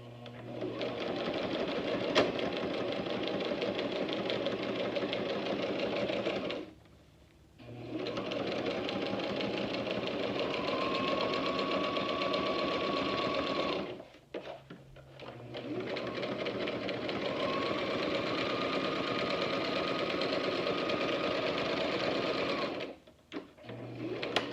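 Sewing machine back stitching a face mask seam, a steady loud motor whir in three long runs separated by brief pauses, close and continuous.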